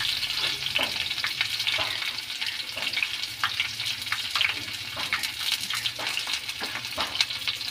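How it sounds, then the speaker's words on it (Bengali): Onions sizzle in hot mustard oil with green chillies, a dense, continuous close-up frying crackle with occasional stirring scrapes. "তার মধ্যে পেঁয়াজটা অ্যাড করে দিলাম।"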